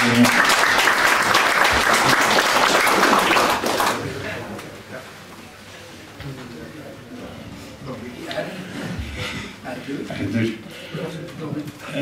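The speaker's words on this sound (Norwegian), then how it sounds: "En applaus for Erik." A concert audience at a mountain tourist lodge applauds for a performer joining the stage, loud full clapping for about four seconds, then it drops away and someone speaks over quiet room noise.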